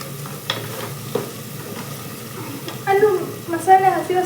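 Half a kilo of tomatoes frying and being stirred in a pan on a home stove, a soft steady sizzle with occasional scraping strokes, growing busier toward the end while faint voices murmur around it.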